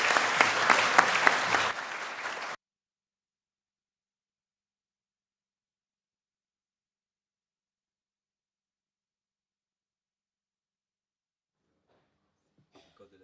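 Conference audience applauding a panel, a short burst of dense clapping lasting about two seconds before abrupt silence.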